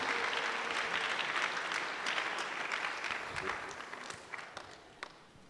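A congregation at a church service bursts into dense, loud applause that gradually thins toward the end. A few sharper individual claps remain as it dies away.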